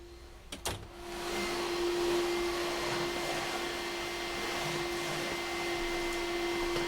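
A household vacuum cleaner runs steadily and fairly close, with a strong constant motor whine and broadband airflow rush. A short knock or click comes just before the motor settles in. No one speaks.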